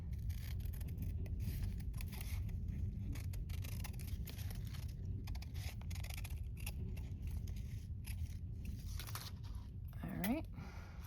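Scissors snip through paper tape strips in a steady series of small, close cuts over a low background hum, with a person talking over them.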